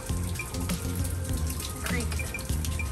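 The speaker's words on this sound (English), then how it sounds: "Basically creates like a river down our front step." Rainwater pours steadily down a front step like a small creek after a storm, a continuous close splashing and trickling with patters of drips on top.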